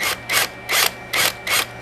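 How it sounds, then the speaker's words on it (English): Rhythmic rasping bursts from drilling slowly into the infill of a 3D-printed part to seat a magnet, about five even strokes close up and loud with short gaps between. "Go slow because you're just drilling into the infill."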